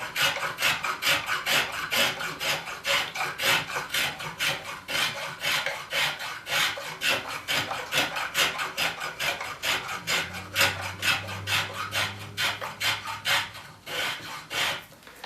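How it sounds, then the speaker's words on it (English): A spokeshave shapes a wooden chair spindle in repeated rasping strokes, a steady rhythm of close, scraping cuts with no talking. "the spoke shave will leave on entry"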